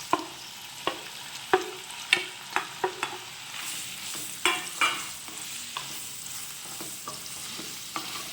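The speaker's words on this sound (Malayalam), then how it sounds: "അപ്പോൾ നമുക്ക് സോസേജ് കട്ട് ചെയ്ത് അങ്ങോട്ട് കൊടുക്കാം." Sliced sausage fries in coconut oil in a pan, with a soft steady sizzle broken by repeated sharp spatula clicks and scrapes as the pieces are stirred, close by and without talk.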